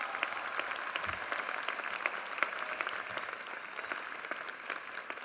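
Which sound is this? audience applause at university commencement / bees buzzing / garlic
audience applause at university commencement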